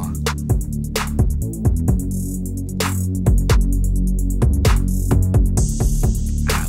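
A Reese bass preset in the Sylenth1 synth plays a thick, low, throbbing drone inside a beat, with sharp percussive hits cutting through at a steady rhythm, loud and upfront with no talking.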